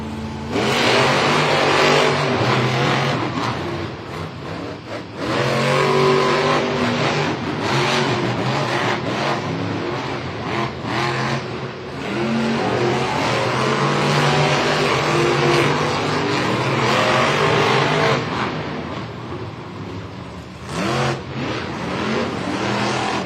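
Monster trucks roar and rev at a Monster Jam stadium event in Philadelphia, engines loud and sustained for the whole run with surging acceleration, brief dips and renewed bursts under crowd and arena noise.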